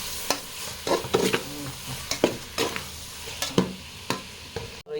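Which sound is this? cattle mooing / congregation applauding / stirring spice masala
stirring spice masala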